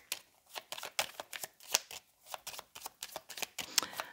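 Tarot cards shuffled by hand for a reading, a quick run of crisp riffling bursts and soft slaps repeating close up at a brisk, uneven rhythm, with no voices.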